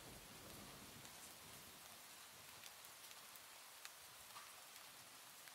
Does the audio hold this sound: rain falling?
yes